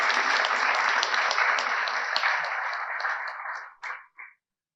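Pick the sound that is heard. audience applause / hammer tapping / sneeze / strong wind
audience applause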